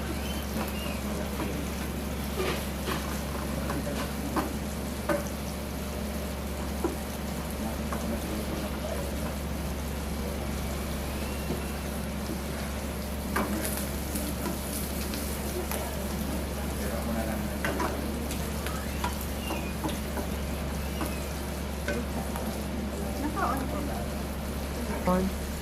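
Sliced mushrooms fry in a pan with a steady, soft sizzle and occasional crackles, close and continuous, while a person talks over the cooking.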